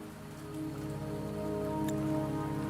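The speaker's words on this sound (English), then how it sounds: "Don't worry, the rain won't last much longer." Steady rain falls in the video game Wuthering Waves, an even wash of droplets on surfaces layered over a low sustained musical drone, with no voices.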